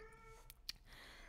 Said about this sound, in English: I think y'all can hear my cat screeching right now